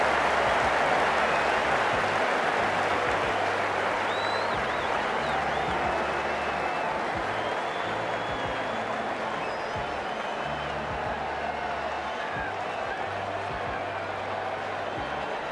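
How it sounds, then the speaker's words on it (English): Stadium crowd in the cricket video game Cricket 19 roaring and applauding after a boundary four, a loud, sustained wash of cheering and clapping with a low rhythmic pulse beneath it and no spoken voices. "The crowd's on their feet,"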